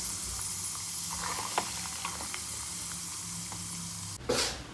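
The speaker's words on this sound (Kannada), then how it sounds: "ಹಾಗೆ ಇಲ್ಲಿ ನಾನು ಗೋಡಂಬಿಯನ್ನು ತುಪ್ಪದಲ್ಲಿ ಹುರಿದು ತೆಗೆದಿಟ್ಕೊಳ್ತಾ ಇದ್ದೀನಿ." Cashews frying in ghee in a home kitchen while making besan laddu: a steady soft sizzle with small crackling pops, close by, ending in a sharper burst of scraping or stirring, with no voices.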